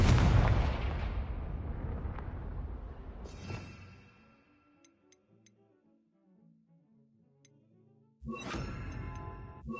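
A Confringo explosion spell in the Hogwarts Legacy video game sets off a loud, heavy blast that rumbles and fades over several seconds. A few faint ticks follow, then a second sharp burst hits near the end.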